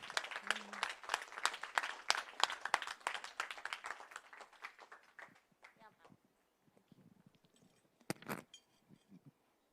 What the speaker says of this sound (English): big round of applause once again for the Srishti Special Academy